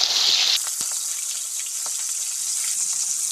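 Prawns hit hot oil in a kadai one by one, a loud burst of bright spitting sizzle that settles into a steady close frying hiss with occasional pops.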